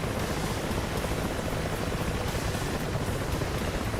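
Steady broadband rotor and engine roar of Huey and Mi-8 helicopters dogfighting in the DCS World combat simulator, loud and continuous throughout with no pauses.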